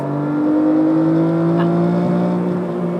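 A Porsche 964 fitted with a GT3 RS engine revs steadily in the cabin, a smooth sustained engine drone with a slight rise and a brief blip as the gear changes up, loud and close with no talk.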